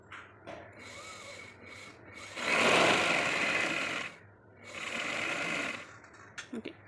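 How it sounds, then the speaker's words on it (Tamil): A sewing machine winds thread onto its bobbin in two steady whirring runs, moderately loud and close, separated by quieter handling noises and a few faint clicks. "பொபினில் நூல் சுற்றுறதுக்கான இடம் இங்கே இருக்குது"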